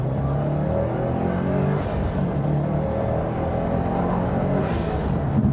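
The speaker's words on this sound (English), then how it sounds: "That is a sound that my young fella longs for, the sound of the exhaust gate." A 2021 Subaru WRX STI R Spec in Sport Plus accelerates hard, its exhaust gate opening into a loud, steady, broadband roar that holds throughout with no talk over it.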